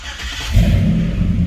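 A 1994 Chevrolet Caprice engine fitted with Holley Terminator X Max EFI starts up close by, with a brief crank followed by the engine catching into a loud, steady, deep rumble.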